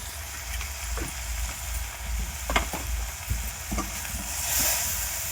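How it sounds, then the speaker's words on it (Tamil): Spiced food with turmeric being stirred in a frying pan, a steady sizzle with scraping strokes of the spoon at irregular intervals, close and moderately loud with no talking. "இப்போ பாருங்க நல்லா கிண்டிக்கிட்டு இருக்காங்க."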